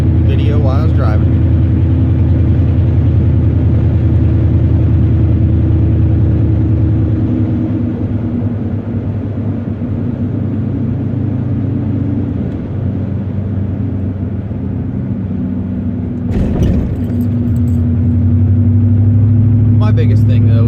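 Inside a moving car, a steady loud low engine and road rumble drones for about twenty seconds, dipping briefly partway through before rising again, with no talking over it.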